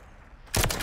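A single sharp sniper shot in a video game bursts in loudly after a quiet stretch, followed by a short ringing tail.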